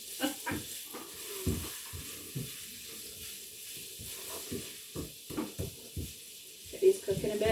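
Adobo ingredients sizzle softly in a pan, punctuated by irregular stirring knocks and scrapes, fairly quiet and close.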